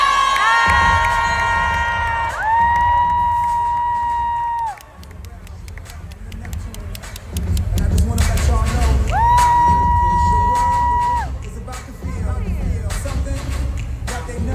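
A crowd cheers and shouts loudly, swelling in waves, with bright whoops and electronic tones cutting through the roar.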